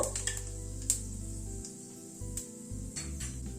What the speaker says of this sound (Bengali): গ্যাসের ফ্লেমটাকে কমিয়ে ফোড়নটা একটু ক্র্যাক করা অবধি অপেক্ষা করব